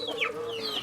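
Chickens clucking in a shared duck and chicken coop on a Peking duck farm, a brief close run of bright, rising hen calls with a steady low background.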